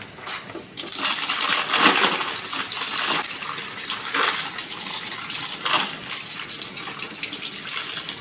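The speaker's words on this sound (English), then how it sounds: "Now I'm going to add water." Water gushing steadily from a tap into a pot in a kitchen while chicken bone broth is being made, a continuous close splashing rush with no talking.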